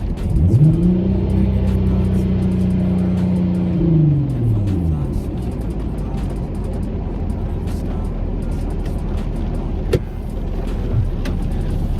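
An MK5 VW Golf R32 turbo engine while driving with a misfire issue, a loud close drone that falls in pitch as the car slows, then settles into a low steady rumble with road noise.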